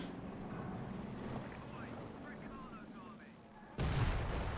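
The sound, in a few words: gunfire in the video game Company of Heroes 2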